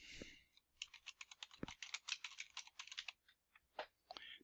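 Keys clatter on a computer keyboard as a group name, Copper Tubing, is typed in a quick, irregular burst of close, faint clicks, followed by a few slower taps.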